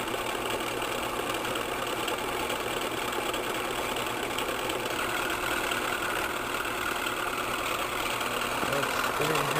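A motor idling at roughly 550 RPM makes a steady, continuous mechanical running hum with a faint knocking texture, holding even and close for the whole stretch with no speech.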